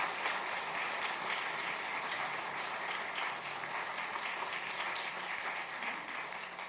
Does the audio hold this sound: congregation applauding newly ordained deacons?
yes